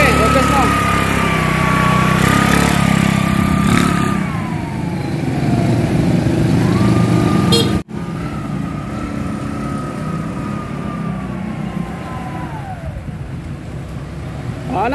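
A Rusi Clone 125 motorcycle with a lightweight sidecar drones steadily on a road test, pitch rising and falling with shifts, a brief cut midway, with voices talking over it.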